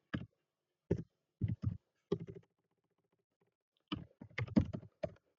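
Computer keyboard typing in short bursts of clicks while code is being written, separated by pauses, close and fairly quiet with no talk.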